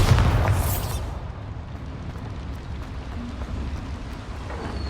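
Bombarda explosion spell in Hogwarts Legacy, set inside a mine: one loud, close blast with a bright crack at the start, then a long rumbling decay that settles into quiet ambient noise.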